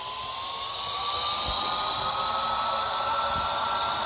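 Airbus A320neo jet engines spooling up in the Flight Master flight simulator game, a steady broadband roar with a rising whine throughout, loud and continuous without talk.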